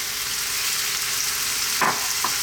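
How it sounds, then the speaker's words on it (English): Ground beef and chopped onion frying in olive oil over above-medium heat, giving a dense, even sizzle with a couple of brief scrapes of a spoon moving the meat; no voices. "And to that we're going to add the beef, ground beef, minced beef,"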